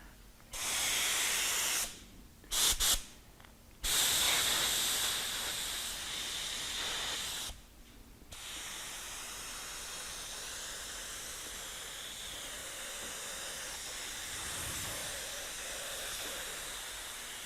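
A spray gun lays a wet coat of finish on wood in a finishing shop, giving a steady hiss with short bursts at first and then one long continuous spray.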